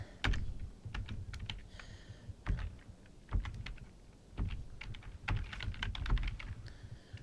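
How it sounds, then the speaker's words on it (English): A command is typed on a computer keyboard in a quiet room: irregular bursts of crisp, close key clicks with short pauses between clusters, no speech. "needed to be able to think while I was typing my command"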